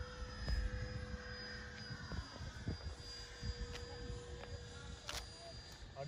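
A jet trainer aircraft's engine drones steadily as it climbs after takeoff, a continuous broadband roar heard from on board, with occasional speech over it.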